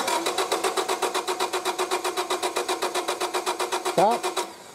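1999 Honda Civic engine with no spark cranking without catching, a rapid, even rhythmic chugging of the starter turning over for about four seconds, then a brief rising whine as it stops.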